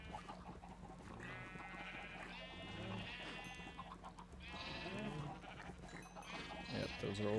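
Several Minecraft sheep bleat in wavering cries, one after another, moderately close over a low steady background hum.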